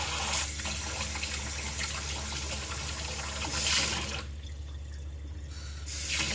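Water streams steadily from a WEWE kitchen pull-down faucet sprayer into a sink, a continuous hiss that shifts in texture as the spray pattern changes.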